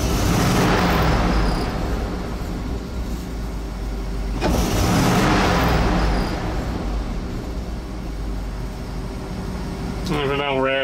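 A Dodge 361 V8 truck engine with a freshly rebuilt Carter BBD carburetor runs loudly and steadily close by, with a brief rise in revs partway through and a faint whine near the end.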